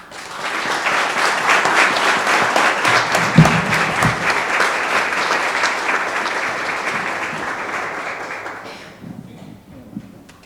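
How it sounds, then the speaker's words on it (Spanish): An audience at a commemorative tribute event gives a loud, sustained round of applause to welcome a speaker, the dense clapping holding steady before thinning out and stopping near the end. "les pido un fuerte aplauso"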